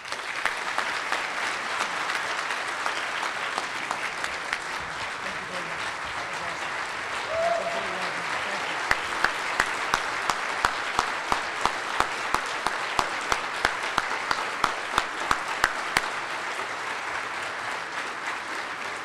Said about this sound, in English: Let's have one more round of applause for them.